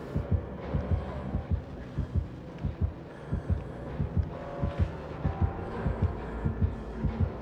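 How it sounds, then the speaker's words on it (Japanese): Heartbeat effect from the horror video game Dead by Daylight, steady paired low thumps pulsing about twice per second for the whole stretch over a faint droning hum, fairly loud and close. "ずっと心音してる。"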